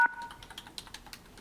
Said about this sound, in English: I couldn't hear the question because there's beeping on the phone